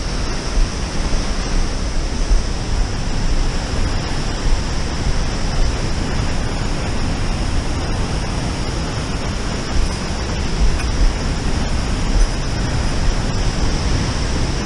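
A thundering waterfall along the North Fork Sauk trail, heard as a steady, dense roar of rushing water that holds evenly throughout with no talk over it.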